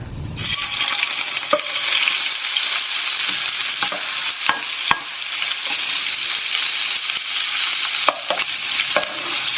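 Prawns stir-fried in hot oil in a wok, a steady loud sizzle running the whole time with occasional scrapes and clinks of a utensil against the pan, no voices.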